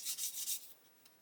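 A sanding stick rubs across a small plastic model part from a 1/35 M109A7 kit. There are a few quick, close, hissing strokes in a short burst, then it fades into near quiet.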